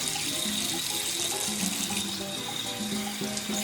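A bathroom sink tap runs steadily while a face is rinsed after skincare, a close, continuous splashing stream with no voices.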